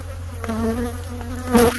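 Killer bees swarm in the eaves of a house, giving a close, steady, droning buzz with wavering pitch that swells briefly louder near the end.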